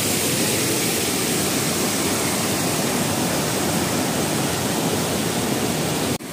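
A swollen, rising river rushes past in a loud, unbroken roar of flowing water that holds steady throughout and drops off abruptly just at the end.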